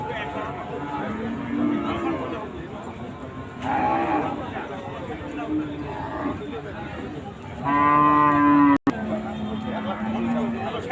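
Cows moo at the Chandaikona cattle market, with two drawn-out lowing calls rising over constant crowd chatter as people talk nearby.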